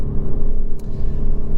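A Honda Civic Type R FK8 with a sports catalytic exhaust idles close by, a loud, deep, steady burbling rumble with slight pulsing, no voices.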